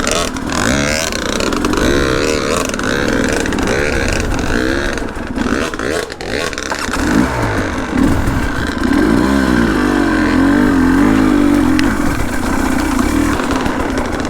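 A HengJian Z300 S7 two-stroke motorcycle being ridden in Chongzhou, China, a loud continuous buzzing engine close by with rising and falling revs and clattering wind noise, no clear talk.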